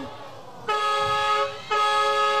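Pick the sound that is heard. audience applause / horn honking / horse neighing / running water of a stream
horn honking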